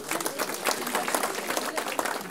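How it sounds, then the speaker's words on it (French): An audience at a 2013 New Year's greetings gathering of a French Socialist federation applauds a newly elected mayor, a steady patter of many hands clapping at moderate level for a couple of seconds. "que je vous demande d'applaudir très fort."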